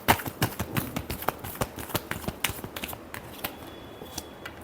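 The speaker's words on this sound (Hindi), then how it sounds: "Last shuffle." Tarot cards are shuffled by hand in a rapid series of crisp riffling taps and flicks, close and fairly quiet, with no talk over them.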